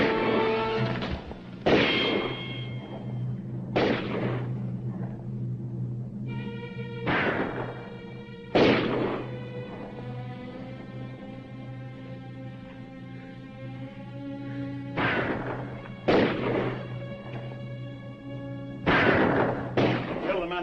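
Gunshots ring out in a western film shootout, a series of loud single cracks spaced several seconds apart over a sustained orchestral score.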